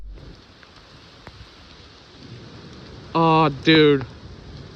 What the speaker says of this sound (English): the rain splashing on this van here is getting into me.